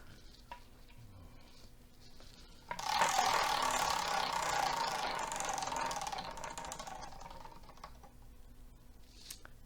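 A game spinner wheel is given its last spin, a quiet lead-in giving way at about three seconds to a sustained ratcheting clatter of the pointer ticking past pegs, slowly easing off over the following seconds.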